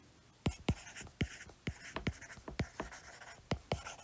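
Pen or chalk writing out physics equations, a quick run of sharp scratchy strokes and taps coming in uneven bursts, close and fairly loud, with no talk.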